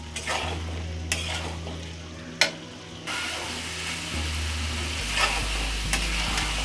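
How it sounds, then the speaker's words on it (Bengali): Potatoes for alur dom frying in a pan with spices, a continuous sizzle broken by scraping stirs and a couple of sharp clanks of a utensil against the pot, with no one speaking. "শুধুমাত্র মশলার সাথে এটাকে কষাতে থাকবো"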